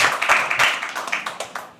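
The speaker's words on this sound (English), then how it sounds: "Just keep clapping." Audience applauding at a live poetry open mic night at The Habitat, with dense, steady hand clapping and a few sharper claps standing out, holding fairly loud through the whole stretch before easing slightly near the end.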